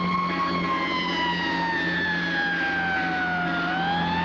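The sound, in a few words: old FDNY fire truck siren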